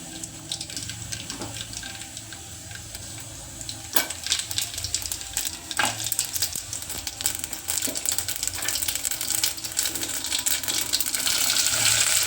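Mustard seeds and cumin hit hot oil for a tempering for white kadhi, giving a steady hissing sizzle scattered with sharp crackles and pops that grows louder toward the end, with no talking.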